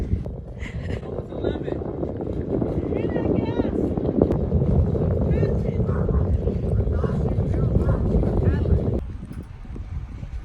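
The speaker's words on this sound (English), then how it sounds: "I've got the engines on" Sailboat engines running while motoring at sea, a steady low droning rumble with wind buffeting the microphone, under people talking, until the engine noise drops away near the end.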